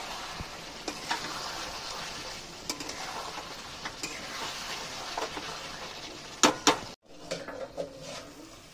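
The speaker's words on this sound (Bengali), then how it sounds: "এবারে কিন্তু এটা ভালো করে কষাতে হচ্ছে, একটু ভালো করে নেড়ে চেড়ে আবার কষাতে হবে" Mutton cooked with yogurt is stirred and fried in a pan, a spatula scraping and knocking against the metal in irregular strokes over a soft, continuous sizzle, close by.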